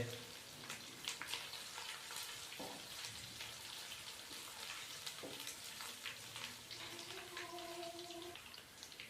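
Ginger garlic paste frying in hot ghee in a pan while making aloo dum biryani, a steady close sizzle with crackling bursts and occasional stirring scrapes.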